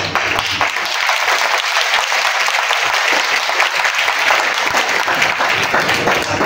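Loud, dense applause from a community conference audience in Jalgaon, steady and continuous throughout with no pauses.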